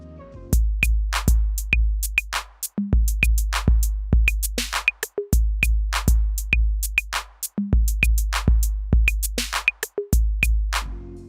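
Punchy electronic drum hits from a Clean 808 drum kit in a steady groove: deep booming kicks, crisp snares and ticking hi-hats, loud and alone.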